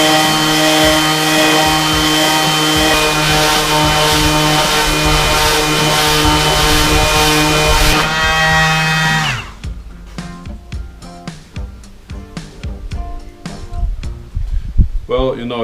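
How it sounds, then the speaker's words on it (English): A power sander works down a handmade wooden low stool, a loud steady motor whine that cuts off partway through, followed by scattered clunks and handling noises from the workpiece. "I'm just gonna sand it down and keep on checking it until I have found the right balance."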